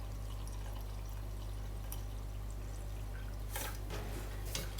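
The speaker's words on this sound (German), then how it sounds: "Und als nächstes fülle ich meine Tasse wirklich randvoll mit Wasser." Water is poured into a cup holding dry yeast until it is filled to the brim, a splashing trickle rising near the end over a constant low background hum.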